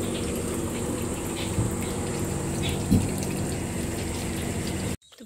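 Water runs steadily from an RO drinking-water tap at an outdoor lakeside spot, a continuous close splashing flow that cuts off abruptly at the end.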